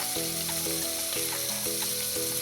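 Peas, potatoes, tomatoes and cauliflower hit a hot pan for spiced masale bhaat, hissing in a loud, continuous close sizzle. Faint tonal notes ring steadily underneath.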